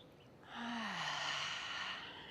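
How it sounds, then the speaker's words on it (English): A single slow, deep breath taken during a rooftop yoga session, a soft airy exhale that swells and then fades, close and quiet. "Take a few deep breaths here."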